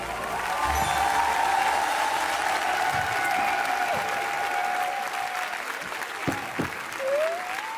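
A room of people gives sustained, fairly loud applause, a dense wash of clapping that holds steady throughout and tapers only slightly near the end.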